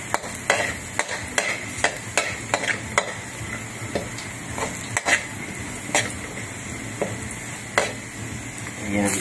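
Garlic sizzles in a hot pan for a mushroom sauté, with repeated clinks and scrapes from stirring that recur every second or so over a continuous frying hiss.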